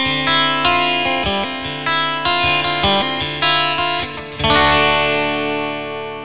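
Distorted electric guitar chords through a HeadRush pedalboard strike in a choppy rhythm, each ringing out into a bright, spacious Bright Hall reverb tail that lingers after the final chord.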